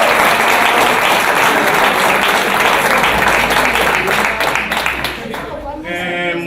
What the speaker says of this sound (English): So for that, can we give her a round of applause?